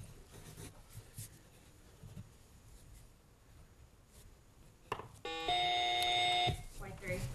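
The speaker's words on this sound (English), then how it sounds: "Right at the buzzer." A quiz bowl buzzer at a West Kentucky academic bowl semifinal sounds one sustained loud electronic tone about a second long, following quieter room noise and a moderator's voice.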